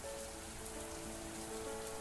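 Steady rain falls in a scene from the visual novel game Mamiya, a soft even hiss of drops pattering on a surface, faint and continuous with no voices.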